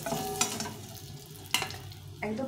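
Fried pointed gourd is stirred in a pan, soft sizzling under two or three sharp scraping strokes of a spatula against the metal, close and fairly loud.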